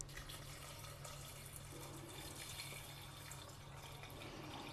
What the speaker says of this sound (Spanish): ahora ponemos el cestillo con las alubias y rellenamos de agua hasta cubrirlas